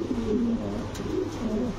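Pigeon cooing close by, a soft low rolling coo repeated several times in a steady rhythm.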